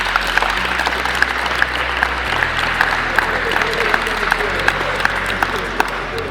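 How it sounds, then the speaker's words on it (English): Steady crowd applause at a basketball festival Hall of Fame ceremony in Limpopo, continuous and moderately loud with a low hum beneath and occasional sharper individual claps standing out. "Let's give him a round of applause."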